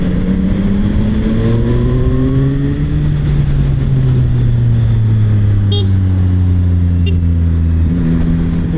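A Pulsar motorcycle rides past in Istanbul traffic, its engine note rising and sweeping by loud and close, amid steady car engines and brief horn toots.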